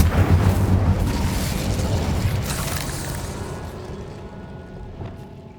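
A fire spell, Incendio, cast in the video game Hogwarts Legacy: a loud whooshing, rumbling burst of flame that fades out gradually over several seconds, with no talking.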